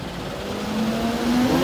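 A tractor engine drones steadily nearby at a port handling steel coils, its pitch slowly rising as it revs up.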